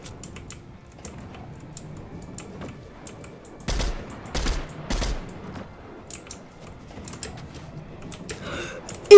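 Three short bursts of video game gunfire sound in the middle of a quiet stretch, each a loud broadband crack clustered close together. Faint keyboard-like clicking and ticking run underneath, with a sharp click at the very end.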